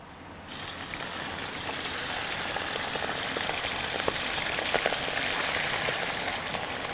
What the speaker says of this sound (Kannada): ಎಲ್ಲ ಒಂಚೂರು ಫ್ರೈ ಮಾಡ್ಕೊತೀನಿ ನೋಡಿ.